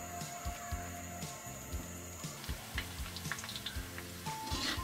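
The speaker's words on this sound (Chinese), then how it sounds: "再加入切好的洋葱和葱段进去，用小火炸出里面的香味" Onion, scallion segments, bay leaves and star anise fry gently in plenty of oil over low heat, giving a steady soft sizzle with light ticks and stirring clatter, no voices.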